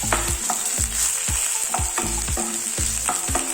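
Coriander fries in a pan for a rasam, with a constant sizzle under rhythmic scraping stirs that repeat about twice a second, close and alone.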